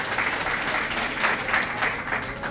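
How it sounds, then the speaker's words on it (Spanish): Dense applause from a large audience at a Partido Revolucionario Moderno women's political rally in Puerto Plata, continuous and loud, with no talking over it. "un aplauso"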